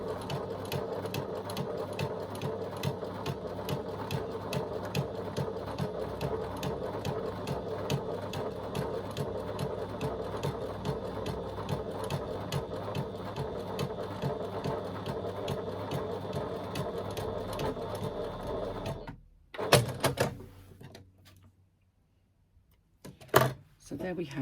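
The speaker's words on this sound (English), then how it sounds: "I've folded that over and I've just stitched that fold in place" A sewing machine stitches down the folded edge of a garment pocket in a fast, even run of close mechanical ticks for about nineteen seconds, then stops, followed by a few louder handling knocks and a quiet pause.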